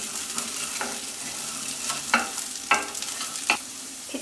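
Spoon folding a channa chaat mixture of lentils, vegetables and coriander in a pan over a slow flame, soft scraping with a few sharp clinks of utensil on pan and a faint sizzle underneath.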